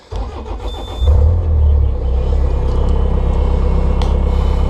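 Engine of a Bobcat 430 mini excavator cranking and catching, then settling into a steady low idle rumble, close and fairly loud with no talking.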